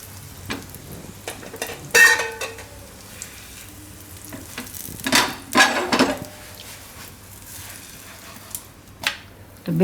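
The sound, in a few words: moong dal paratha roasting on a pan over low heat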